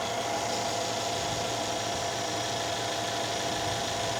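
An old Mercedes engine runs steadily at idle, a constant close mechanical hum and whir with no changes in pitch or level throughout.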